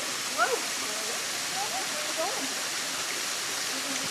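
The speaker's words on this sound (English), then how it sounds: "All to see this little tropical waterfalls." A small tropical waterfall in Hawaii gives a steady broad rush of falling water, with faint bird chirps over it.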